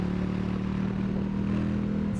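A naked motorcycle on the road under steady engine drone, a constant mid-pitched hum with little change in rhythm, loud and close throughout.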